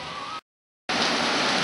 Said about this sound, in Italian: Piove nettamente anche a Ceneris.